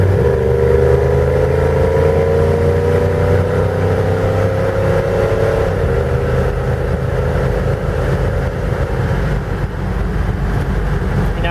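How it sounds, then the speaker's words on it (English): A steady engine drone with a low exhaust rumble from a 1977 Dodge Ramcharger's stock 440 V8 that rises in pitch for several seconds as it accelerates, then levels off and keeps rumbling on. "It's got a fairly nice exhaust note."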